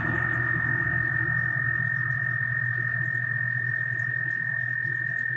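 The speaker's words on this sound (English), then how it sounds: "There's a freaking frog screaming outside of my window." A frog croaks loudly and continuously just outside a window at night, a dense rasping chorus-like drone filling the whole stretch with no other sounds over it.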